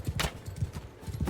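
A horse gallops in the medieval combat game Mount & Blade II Bannerlord, a steady fast rhythm of close, heavy hoofbeats thudding over a dull outdoor wash, with no talking.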